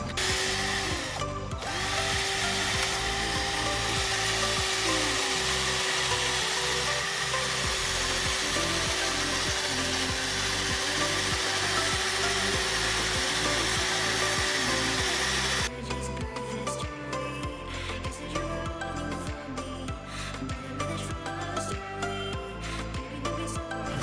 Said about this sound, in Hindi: अब हम इसको सैंड पेपर से रब कर लेंगे जिससे व्हील स्मूथ हो जाए।